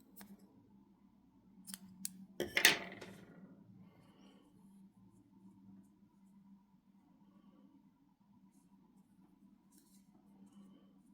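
Scissors cut crochet yarn while a heart-pattern coaster is finished, giving one quick, quiet snip near the middle against a faint steady background.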